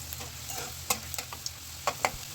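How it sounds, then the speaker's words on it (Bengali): Whole garlic cloves being stirred as they fry in hot mustard oil, with a soft continuous sizzle broken by light scraping and tapping strokes of a spoon, close and quiet, no voices. "রসুনের কোয়াগুলো কিছুক্ষণ নেড়ে হালকা বাদামি কালার করে ভেজে নিতে হবে"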